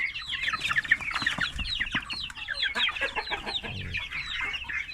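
Domestic chickens cluck and young chicks peep almost without pause, a busy, overlapping chorus of high chirps and lower clucks heard fairly close, with no talking.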